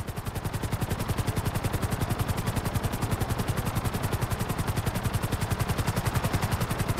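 Helicopter in the video game GTA V: a steady, fast rotor chop with dense whooshing thumps and engine whine, loud and continuous throughout with no voices.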